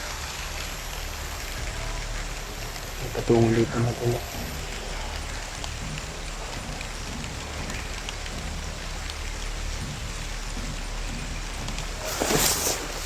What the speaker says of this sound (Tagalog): Parang umuulan na